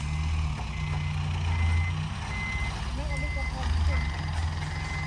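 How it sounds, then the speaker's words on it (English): Three lorries shift mud on a building site, their reversing alarms beeping steadily over a constant low engine rumble, with faint voices in the background. "So they've got 3 lorries on site shifting the mud."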